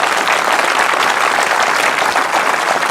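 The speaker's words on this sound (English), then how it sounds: "Can we have another round of applause for Lea there?" An audience at a web design talk applauds a speaker, dense continuous clapping filling the room at a steady, loud level throughout.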